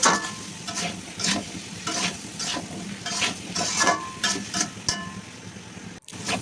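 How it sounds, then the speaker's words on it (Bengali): Okra and potatoes with chili powder sizzle steadily in a pan while a spoon scrapes and stirs in rhythmic strokes, close and fairly loud. "তো ঢ্যাঁড়সগুলো দিয়ে এটাকে আমি ভালো করে একটু কষিয়ে নিব।"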